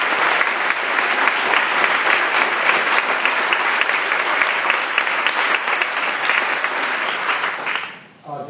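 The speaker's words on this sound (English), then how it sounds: "please give a round of applause to the new CEO and" Sustained, steady applause from an audience at the Carroll Center for the Blind welcoming Dave Powers, new CEO and President of Perkins, filling the room evenly for about eight seconds before tapering off near the end.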